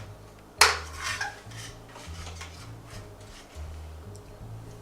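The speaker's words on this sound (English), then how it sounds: "I'm using these plastic dishes that I get left over from one of those frozen dinners." Lightweight plastic frozen-dinner dishes handled in a kitchen, a sharp clatter near the start followed by softer knocks and scrapes, close and intermittent over a low hum.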